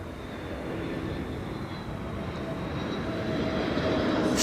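An Aer Lingus airliner at Amsterdam Schiphol Airport gives a steady, broad engine roar that swells gradually louder over several seconds, heard from a distance with no talk.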